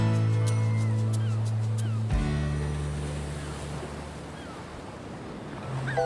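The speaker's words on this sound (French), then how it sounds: "Livrée aux assauts des vagues et du vent" Sea waves and wind batter the Brittany coast, a steady broad wash of surf and gusting air with a low droning tone underneath, fairly distant and continuous.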